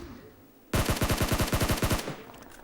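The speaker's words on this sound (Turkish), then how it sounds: "Bu arada adamlar e, bayağı iyi sıkıyor." Rapid automatic gunfire from the mobile game PUBG Mobile: one close, loud burst of about a dozen evenly spaced shots lasting just over a second, with no talk over it.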